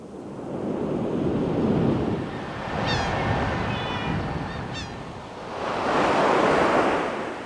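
Ocean waves wash onto a beach ahead of a hurricane, loud rolling surf that swells and recedes in slow surges with wind noise, plus a few brief high gull-like cries in the middle.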